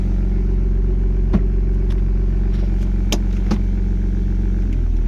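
Car with a freshly repaired clutch pulling away, a steady low engine drone throughout with a few light clunks and clicks on top, close and even in level, no voices.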